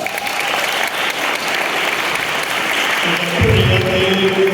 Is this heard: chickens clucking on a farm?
no